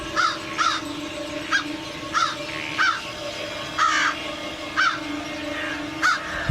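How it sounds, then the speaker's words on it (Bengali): A flock of crows, roused from a large tree at night, caws repeatedly in short harsh calls about once every second, moderately near, over a low steady background hum. "অসংখ্য কাক জেগে উঠে কা কা শব্দে চারদিকে ঘুরে ঘুরে উড়তে লাগলো"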